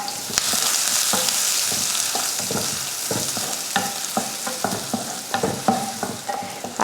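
Hot oil sizzles steadily as mustard seeds, urad dal, curry leaves and onion fry in a pan, with a bright hiss over repeated scraping stirs and small pops.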